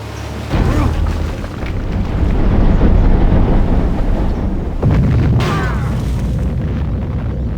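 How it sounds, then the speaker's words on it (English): A guided missile strikes in Civilization V with a heavy boom, a long rolling rumble, then a second loud impact several seconds later, both deep and loud. "That's a guided missile."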